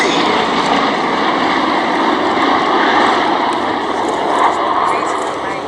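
A group of WWII piston-engined aircraft, including Mustangs, a P-40F, a Wildcat, a Catalina, a C-47 and a Beech 18, drones steadily overhead at the Duxford VE Day air show, while a commentator talks over the roar.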